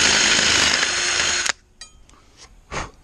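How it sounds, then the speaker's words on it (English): A power drill boring holes in a pressure wash trailer whines loudly and steadily, then cuts off, leaving a few quiet clicks and a brief whir, with no talking. "so I got my holes drilled"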